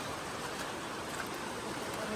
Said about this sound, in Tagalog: So, ito yung ilog natin.